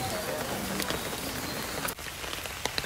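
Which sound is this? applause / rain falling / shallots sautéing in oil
rain falling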